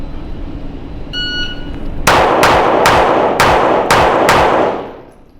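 A .380 pistol fires six sharp, loud shots in quick succession outdoors, each crack ringing briefly before the next, with a faint metallic chime just before the first shot.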